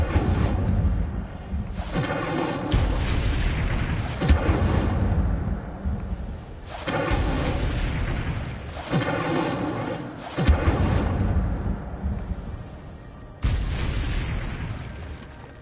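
Incendio fire spell cast repeatedly in Hogwarts Legacy on PS5, each cast a loud booming burst of flame that sustains for a second or two before cutting off, with several blasts in succession.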